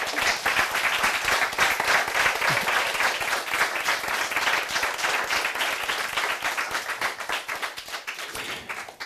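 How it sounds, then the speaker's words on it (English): Sustained audience applause at the Falling Walls 2015 winner announcement, many hands clapping in a dense, even roar that slowly tapers toward the end. "can you please join me and give them a big round of applause?"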